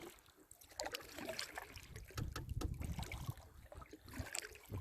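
A kayak is paddled on a lake, with soft, irregular splashes and water gurgles near the boat over a quiet outdoor background.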